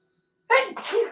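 A single close sneeze, sharp and sudden, bursting out of near silence with a short two-part expulsion.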